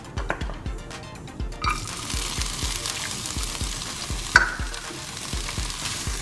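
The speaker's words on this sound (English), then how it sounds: "Now that it's sizzling, it's ready." Onions sizzle in hot oil in a pan with a soft, steady frying hiss, while a utensil stirs in a quick, regular rhythm of scraping taps, close and fairly quiet.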